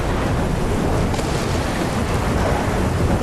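Rain falls during a thunderstorm in the video game Skyrim VR, a thick, constant wash of noise with a deep low rumble underneath, loud and unchanging throughout.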